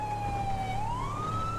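A wailing ambulance siren in the GTA 5 video game, a steady loud tone rising in pitch, heard continuously over a low vehicle hum.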